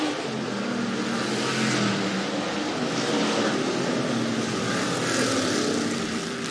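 Stock cars roar around the oval at Rapid Speedway during a heat race, a dense, steady wall of engine noise with slight swells as cars pass, no voices over it.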